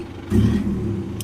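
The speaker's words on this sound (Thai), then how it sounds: "เสียงหอบสามารถปรับความดังได้นะครับ" An engine idles low, then at about 0.3 s a louder surge of car sound is heard from an electric throttle controller box set to blow-off mode one. A short hiss lands near the end; no one speaks.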